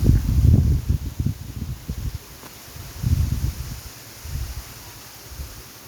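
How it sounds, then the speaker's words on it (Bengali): Outdoor wind buffets the microphone in loud, low rumbling gusts that come and go in waves, with quieter stretches between the gusts. "হ্যাঁ হাওয়া দিচ্ছে"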